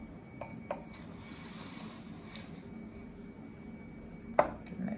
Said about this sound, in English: I'm going to pour in the dirt.